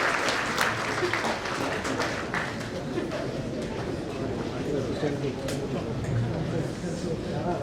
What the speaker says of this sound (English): Another round of applause to Mr. Wonderful.